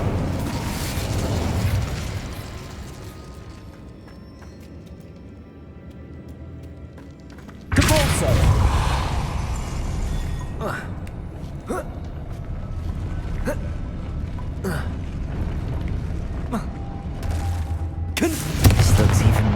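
A fire spell cast in Hogwarts Legacy lands as a sudden loud broadband burst about halfway through, followed by crackling and several sharp pops and thuds, with another heavy hit near the end.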